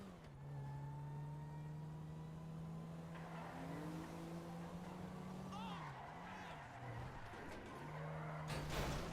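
A car driven in GTA Online revs and accelerates with a sustained engine drone that rises and dips in pitch, with tire squeals partway through and a sharp burst near the end, continuous and close throughout.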